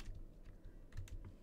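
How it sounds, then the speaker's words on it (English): A tiny kitten treading across a computer keyboard, producing soft, faint, irregular key clicks and taps with no voices. "There's a tiny kitty trying to climb on the keyboard."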